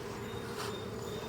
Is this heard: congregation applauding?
no